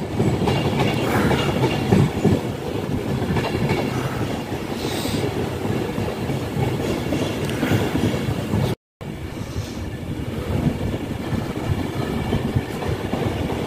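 An Avanti West Coast Class 390 train approaching Carlisle Station rolls past with a loud, steady rumble and rhythmic clickety-clack of wheels, plus a brief wheel squeal, and a short dropout partway through.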